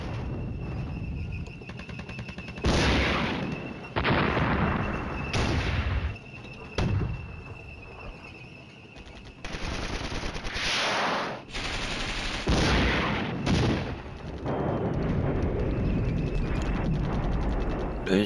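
Explosions and gunfire from the wargame Flashpoint Campaigns: Red Storm, during a West German campaign battle: bursts of rattling fire and booming blasts come in repeated waves over a dense, steady background of combat noise.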